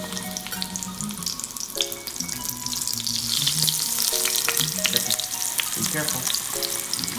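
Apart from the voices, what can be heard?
eggplant frying in oil in a pan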